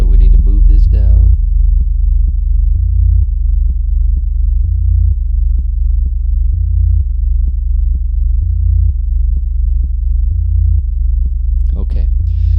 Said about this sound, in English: the hip hop bass is a little bit too high here